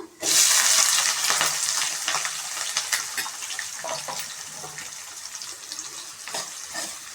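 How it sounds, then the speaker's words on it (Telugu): Chopped onions frying in hot oil in a pan, with a steady loud sizzle starting abruptly and continuing throughout, broken by occasional scrapes of stirring, close up. "ఆనియను బాగా ఫ్రై కావాలి కొంచెం"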